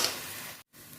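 Onions sizzle and fry in a covered pan with a steady, soft crackling hiss, broken by a brief pause near the end before the sizzle resumes.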